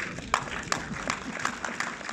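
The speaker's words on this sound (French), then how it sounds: "Je vais applaudir, je pense." An audience applauds at a film preview screening, with scattered clapping and a few sharper individual claps standing out, all fairly quiet.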